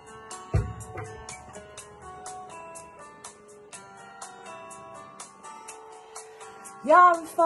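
A song plays, with tuneful instrumental music and sustained notes running steadily, moderately loud, and a louder vocal or brass swell near the end.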